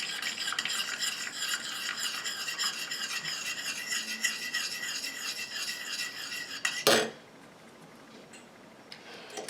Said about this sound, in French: Je continue à mélanger comme ça jusqu'à ce que mon émulsion épaississe et refroidisse